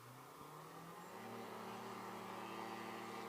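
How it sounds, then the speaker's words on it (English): The turbocharged Rotax engine of a STOL plane spools up at an air show fly-in competition, a distant drone rising and thickening over a few seconds into a steady roar. "Turbocharger spooling up, and he's off."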